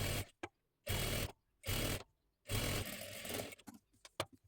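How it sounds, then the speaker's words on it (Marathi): Sewing machine stitching saree fabric while a dress is being made, running in several loud bursts of steady mechanical whirring with short pauses between, then lighter uneven ticks near the end, no voices. "आणि पूर्ण अशी शिलाई देऊन घ्यायची."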